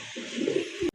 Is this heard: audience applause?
no